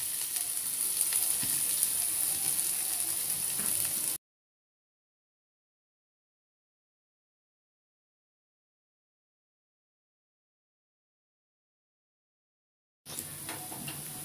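Onions fry in a pan for cabbage bharta with a steady close sizzle, which cuts to a long stretch of silence and then resumes briefly.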